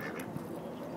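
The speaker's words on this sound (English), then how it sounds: "it's a one female duck flew across with five male ducks chasing her" Ducks outdoors, a female chased by several males, give a few quiet, brief quacks over soft background noise, fairly distant and with no talking.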